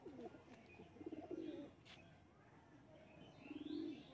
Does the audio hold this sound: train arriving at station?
no